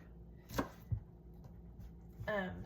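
A knife chops celery on a cutting board for vegetable soup, giving two or three quiet, isolated cuts in a calm kitchen, with a brief faint sound near the end.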